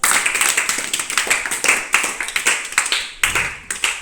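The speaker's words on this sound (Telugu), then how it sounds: "Very good. క్లాప్స్ మా." A classroom of children claps in quick, uneven bursts, sharp individual hand claps repeating at a brisk rhythm, close and fairly loud, with a brief pause before the clapping resumes.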